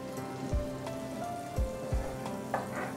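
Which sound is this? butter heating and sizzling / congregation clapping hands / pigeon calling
butter heating and sizzling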